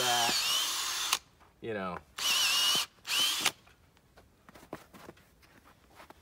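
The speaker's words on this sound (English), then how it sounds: "And I did an in and out on that just because it's a regular drill bit." A regular drill bit bores an angled tap hole into a maple tree, whining in loud bursts with a brief pause as the bit goes in and out, then stops while someone speaks briefly nearby.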